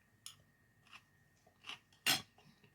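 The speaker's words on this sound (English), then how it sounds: "I'm going to bite here with some chicken and vegetables." Chewing on a bite of slow-cooked chicken thigh with pan-fried vegetables including red pepper and baby corn: a few crisp, separate crunches close to the mic, the last one loudest, with quiet gaps between and no talking.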